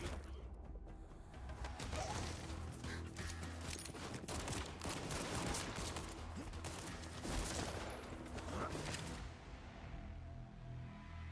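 Rapid semi-automatic gunfire in Arknights: Endfield crackles through a busy combat mix in steady bursts at moderate volume, then stops abruptly near the end.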